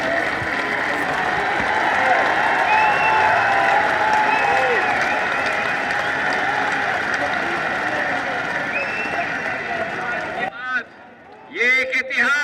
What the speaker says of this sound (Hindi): तालियां बजाते जाओ, इतने बजाते जाओ कि दिल्ली तक सुनाई देनी चाहिए